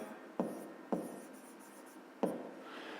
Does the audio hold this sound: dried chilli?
no